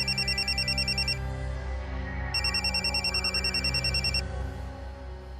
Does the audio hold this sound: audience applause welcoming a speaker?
no